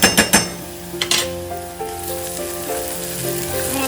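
Garlic and chili paste drops into a pan with sautéed onion and capsicum for paneer bhurji, starting with a few sharp clinks and bursts, then settling into a steady, close sizzle.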